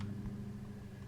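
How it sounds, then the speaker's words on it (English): A noisy truck passes outside, heard as a steady low rumble from a distance under a quiet room, with no voices. "apparently I have a noisy truck going past"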